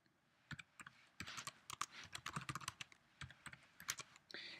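Computer keyboard typing as a username and password are entered, quick irregular keystroke clicks in short bursts, close and fairly quiet.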